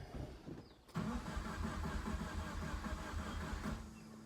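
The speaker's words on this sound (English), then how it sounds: "All right, we're gonna crank it, see what the RPMs are." Subaru WRX with a JDM EJ205 engine cranking over, a steady rhythmic starter churn that runs for several seconds after a short pause, close and moderately loud, not catching.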